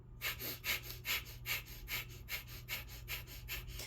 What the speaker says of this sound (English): that quick fire breath looks like now bellows breath is an in and out